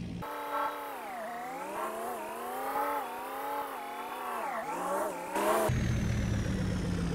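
Pickup truck engine driving in Farming Simulator 22: a steady, tonal mid-range drone that rises and dips in pitch as the throttle changes, then shifts to a harsher, noisier roar near the end. No voices.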